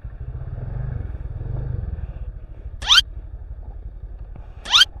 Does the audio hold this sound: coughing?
no